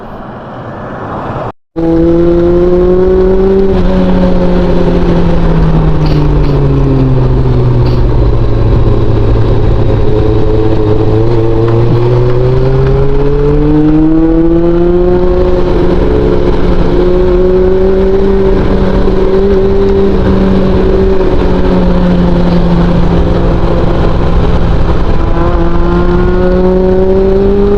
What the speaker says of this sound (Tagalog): Pakinggan nyo na lang yung tunog ng motor natin.